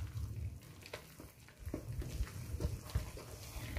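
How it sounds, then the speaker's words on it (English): Carrot loaf batter with orange is lightly stirred in a bowl, producing soft, wet, irregular sloshing and scraping strokes close by at low volume, with no voices. "Then, mix natin."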